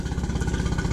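A boat outboard motor idles on a flusher, giving a close, steady, low rhythmic chugging with a fast pulse.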